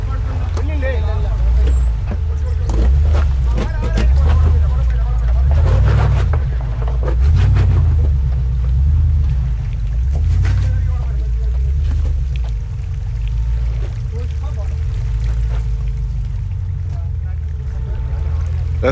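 An off-road 4WD vehicle climbs slowly up out of a creek on a deep creek track near Walhalla, Australia, its low engine rumble pulsing steadily throughout while wind buffets the microphone and someone talks over it.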